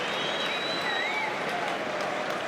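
A football stadium crowd roars at a Tottenham Hotspur versus Arsenal Carling Cup match, a dense, continuous wash of cheering with a faint whistle-like tone sliding above it.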